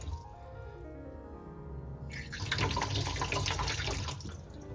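Hot water from a bathroom faucet begins flowing partway through, a soft trickle swelling into a steady splashing stream into the sink, close and continuous.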